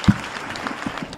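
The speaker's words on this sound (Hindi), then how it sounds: "एक बार जोरदार तालियां बबलू भैया" Audience applause at a Hindi kavi sammelan poetry recital, a brief burst of clapping that opens with a sharp spike and then thins into scattered claps.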